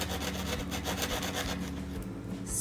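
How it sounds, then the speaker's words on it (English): A drywall knife scrapes and cuts along drywall to trim it flush with the wall during a farmhouse renovation, producing a continuous rough rasping with quick repeated strokes, close and steady, with no talking. "I take this drywall knife and I'll just like, can you see that? I'll just go through, make it even with the wall"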